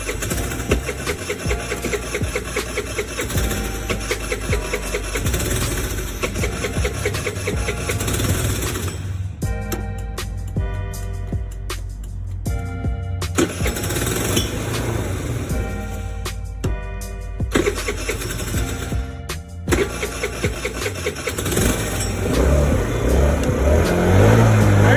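A carburetted Icebear Ruckus-clone scooter engine, freshly tuned up with a new carb, oil and spark plug, turns over and catches on its own without starting fluid, then runs with a loud, close, buzzing idle and brief revs.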